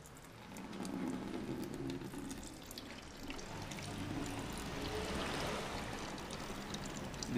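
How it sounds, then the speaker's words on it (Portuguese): Coolant draining from the radiator of a Kawasaki Versys 650 motorcycle, a steady faint splashing stream that runs continuously throughout with no talking. "Deixar vazar todo o aditivo do sistema."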